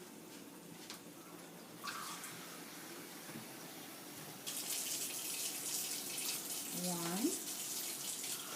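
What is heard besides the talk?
pouring water into the pot for arroz con gandules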